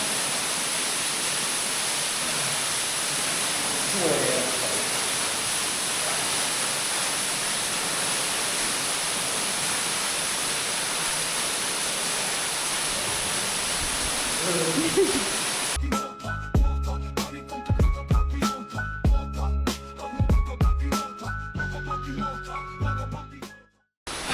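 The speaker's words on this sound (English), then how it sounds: "Centennial Glen waterfall in the background, absolutely magical." Centennial Glen waterfall in the Blue Mountains gives a steady, close rushing roar for about sixteen seconds, then it gives way to quieter clattering and tonal sounds.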